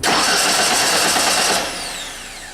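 A car engine cranks over on its starter motor during a battery-terminal voltage-drop check, a loud, steady churning for about a second and a half before it cuts off and fades into quieter residual noise.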